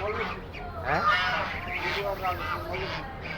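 A goose honks in a run of close, nasal calls that rise and fall over low background noise.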